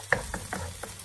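Eggs being stir-fried in a pan with a spatula, giving several quick close scrapes and taps in a brief burst over a low sizzle.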